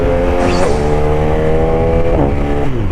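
A car driving through busy Bangkok rush-hour traffic, its engine droning steadily with rising and falling harmonic tones as it accelerates, loud and close throughout with no talking.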